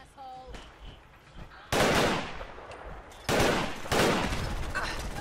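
Weapon fire in the video game Fallout 4: loud bursts of automatic gunshots and explosive blasts, quiet softer sounds between them, a voice briefly heard.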